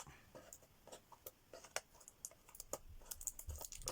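Small, quiet crinkles and light ticking sounds in irregular bursts, close up, like bits of tape being peeled off paper.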